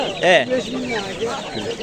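Chicks and hens clucking and peeping in a busy poultry market in Andijan, with a louder burst near the start and voices talking throughout.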